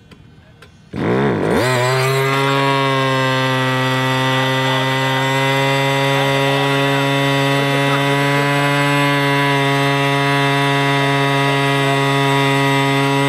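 A gas-powered Goblin 700 RC helicopter engine starts up abruptly at Helifest 2017 and settles into a loud, steady high-pitched buzzing whine that holds constant for the rest of the clip.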